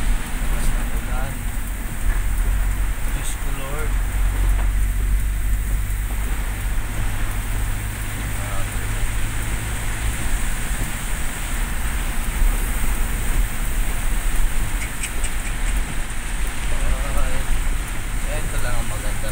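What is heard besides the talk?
heavy rain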